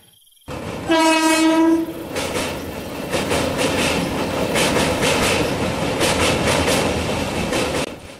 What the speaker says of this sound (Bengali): আরও 35 মিনিট পর ট্রেন এসে থামল ডুমুরগঞ্জ স্টেশনে।